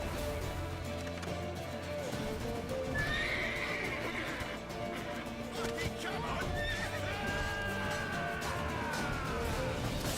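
A horse whinnies in the Witcher 3 video game, its rising, wavering neighs coming through a busy mix of hoofbeats, rumbling music and other game sounds over about ten seconds.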